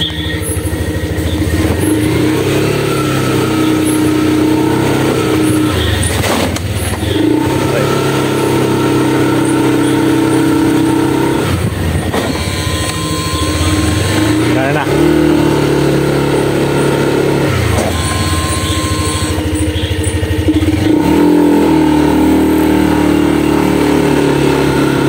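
A Yamaha Nmax scooter with a faulty, always-on ABS light runs during an ABS test after brake bleeding. A steady mid-pitched engine drone rises and falls in repeated revs, with people talking over it throughout.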